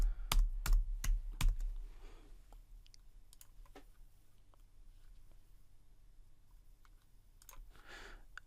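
A password is typed on a computer keyboard: a quick burst of four or five sharp, close key clicks, then scattered faint taps and quiet room noise.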